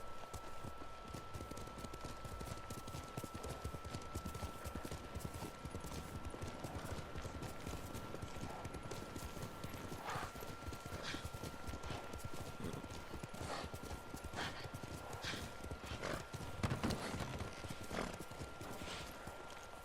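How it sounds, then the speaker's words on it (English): Horse hooves clip-clopping in a steady rhythm as a rider travels on horseback in the game Ghost of Tsushima, with occasional whinnies and faint ambient sounds around it. "look at her riding that horse."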